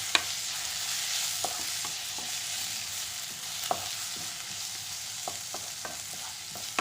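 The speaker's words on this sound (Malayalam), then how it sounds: "ഇതെല്ലാം കൂടി നല്ലതുപോലെ നമുക്കൊന്ന് ഇളക്കാം" A spoon stirs a spice mixture with coriander powder in a sizzling pan, the steady frying hiss broken by scattered light scrapes and taps, close with no talking.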